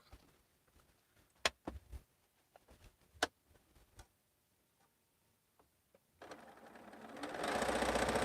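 A sewing machine stitches a quilt seam: scattered clicks and taps at first, then the motor runs loud and steady through the final two seconds.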